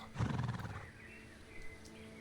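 A horse whinnies loudly in the online game Star Stable, a drawn-out neigh in the first second that fades into quiet ambient game sound.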